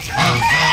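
A goose gives one loud, close, nasal honk on a farm with turkeys and chickens.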